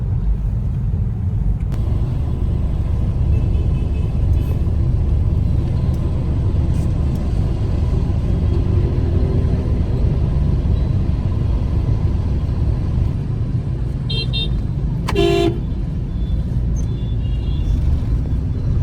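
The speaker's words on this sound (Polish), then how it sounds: "Buczą, jeżdżą, zajeżdżają drogę, masakra." Busy street traffic in Saigon rumbles steadily nearby as vehicles drive past, with a short horn blast standing out near the end.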